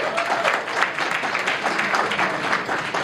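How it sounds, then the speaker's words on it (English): At a documentary screening event, the audience applauds a sponsor with a full, sustained burst of clapping from many hands, evenly loud across the room and free of speech. "So give Falcon Inn a round of applause."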